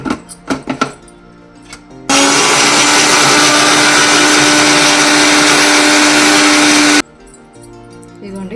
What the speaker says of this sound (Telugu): ఇది ఒకసారి మిక్సీ పట్టుకుందాం.